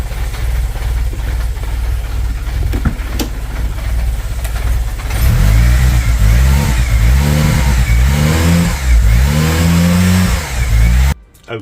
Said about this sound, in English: Let's give it a few revs.